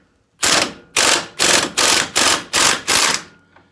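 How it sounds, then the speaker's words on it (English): A pneumatic air impact gun hammers on a spherical ball joint during installation, seven loud rattling bursts in an even rhythm, close with nothing else behind them. "you can use a hand wrench or you can use the air gun"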